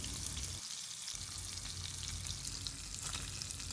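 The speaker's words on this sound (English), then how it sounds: "we will flip the fish pieces and fry on medium to high flame until they are golden brown from both the sides" Rohu fish pieces seasoned with salt and turmeric fry in hot mustard oil in a kadhai, a dense, continuous close sizzle and crackle that stays loud throughout.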